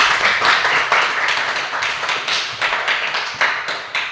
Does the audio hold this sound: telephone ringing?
no